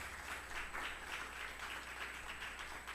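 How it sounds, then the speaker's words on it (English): Applause from an audience for journalists at a University of Belize investigative journalism prize ceremony: a soft, continuous patter of many hands clapping, heard at some distance and fairly faint, with no voices on top. "we have to, again, give all the journalists in the room a big round of applause."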